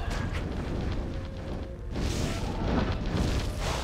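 Doll explosions in Path of Diablo 2 burst as dense, loud rumbling blasts that overlap in a continuous roar of game noise, with a short dip before another heavy wave.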